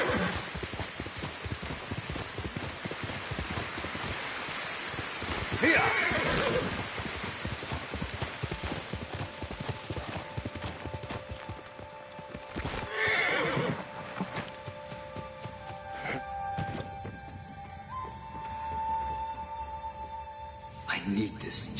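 A horse in the Ghost of Tsushima video game whinnies loudly several times, with clip-clopping hooves and steady rain falling around it; a voice speaks briefly amid the game sounds.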